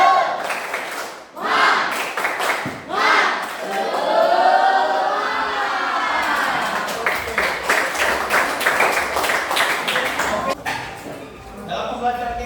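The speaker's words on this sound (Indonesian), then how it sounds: "Tepuk semangat." A standing classroom group does an ice-breaking spirit clap: sharp, evenly timed claps in a steady rhythm, close and fairly loud, mixed with voices talking and calling out.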